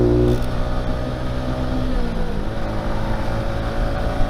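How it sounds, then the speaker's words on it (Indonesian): A motorcycle engine with a 3tech Ronin Hanzo exhaust in silent mode hums a steady drone throughout at a fairly loud, even level, its pitch shifting slightly midway, with no voices. "Masih ada suara mesinnya sih,"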